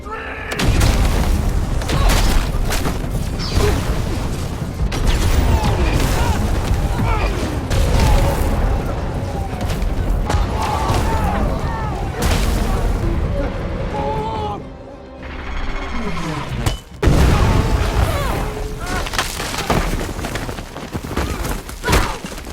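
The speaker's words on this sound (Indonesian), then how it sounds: "Kemudian robot itu menyerang 81 dan rekan-rekannya hingga terjadilah pertempuran." Film battle as an alien robot attacks a squad of soldiers: dense, continuous booms, crashes and gunfire bursts with mechanical clanks, loud throughout with a brief lull, mixed with voices.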